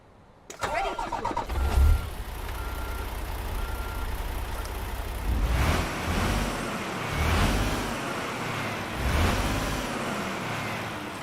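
A DAF truck engine in Euro Truck Simulator 2 cranks and fires up, then settles into a low, steady idle with a few rises in revs, heard alone without talk.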